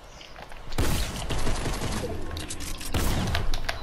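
Rapid bursts of gunfire in Fortnite Chapter 2, loud and close, coming in dense volleys that start abruptly, pause briefly and resume with a second sharp burst.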